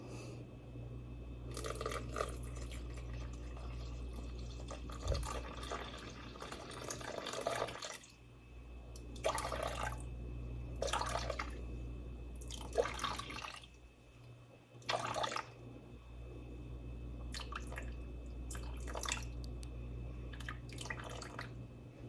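Slightly warm, filtered well water is poured into a container on a kitchen scale for Kamut sourdough bread, making intermittent splashing and trickling bursts over a steady low hum, with brief pauses between pours and no talking.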